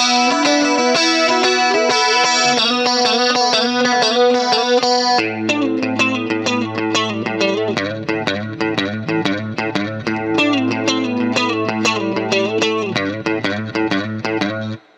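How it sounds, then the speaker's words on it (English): Electric guitar through a DOD FX65 stereo chorus pedal into a Fender H.O.T. amp: a shimmering held chord, then a steady run of picked notes over a sustained low note, loud and close. "engaged the DOD FX65 stereo chorus"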